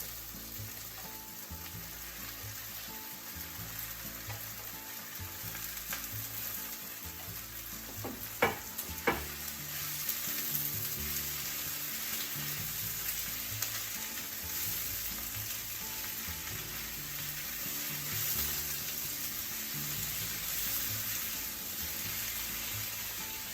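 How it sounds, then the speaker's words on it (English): Spinach stalks stir-fry with browned atsuage in a pan, giving a continuous soft sizzle with a couple of brief clattering stirs near the middle, steady and fairly quiet throughout. "Let's add the stalks of the spinach."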